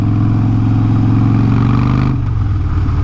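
Steady loud engine drone from a motorcycle riding through mid-October road traffic, a constant low rumble with harmonic hum that eases slightly near the end, close and continuous.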